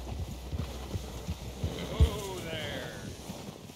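Horse hooves clip-clop at a slow walk in the Red Dead Redemption 2 open world, soft evenly spaced steps close by, with a faint breathy snort midway and quiet ambient background.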